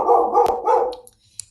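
A pet dog barks indoors during a video call: two or three loud, close barks in quick succession, then near silence.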